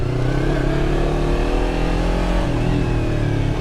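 A Yamaha R3 motorcycle engine hums close and loud as the throttle is gently rolled on, holding a steady, gradually rising drone throughout with no talk.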